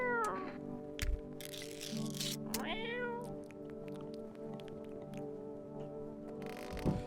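A cat meows in the video game No I'm Not A Human, with several clear, drawn-out meows and a rising yowl that stand out over a low, steady game background.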